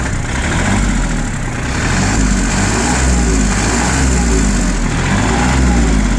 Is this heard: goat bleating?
no